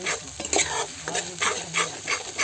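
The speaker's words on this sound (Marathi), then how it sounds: "आता आपण त्याच्यामध्ये मसाला ॲड करूया टोपणामध्ये सगळं आणले मसाले पण असे परतून घेऊया" Masala spices stirred and sautéed in a pot, with a rhythmic scraping stir over a steady sizzle, close and fairly loud with no talk.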